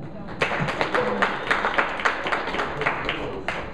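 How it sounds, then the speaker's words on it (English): Scattered claps and cheers from a commencement audience at Las Animas High School, rising and fading over a few seconds with vocal whoops mixed in, moderately loud. "Give her a round of applause."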